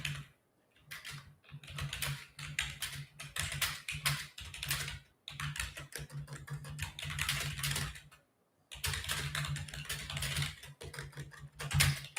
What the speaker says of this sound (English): Yeah, I use a mechanical keyboard, bro.